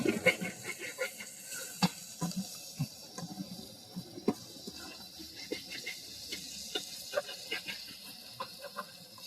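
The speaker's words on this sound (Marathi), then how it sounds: "सारखं ढवळत राहायचं त्याला करपू द्यायचं नाही अजिबात गॅस कमी ठेवायचा आहे" A spoon stirs an egg Maggi and masala mixture in a pan over low heat, with soft irregular scrapes and taps over a faint low sizzle, some close, some quieter.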